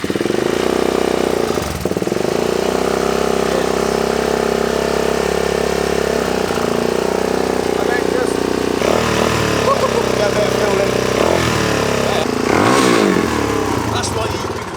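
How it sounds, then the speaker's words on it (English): A 2001 Suzuki DRZ 400 dirt bike on a cold start with the choke on: a loud, close single-cylinder engine idling steadily with a few blips of revving, and voices talk over it. "Cold start. If you put your hand on the exhaust"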